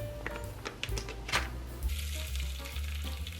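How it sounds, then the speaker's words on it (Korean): One onion fries in olive oil in a pan, sizzling steadily up close with scattered taps and stirring scrapes. "우선 올리브유에 양파 1개 먼저 볶아주고"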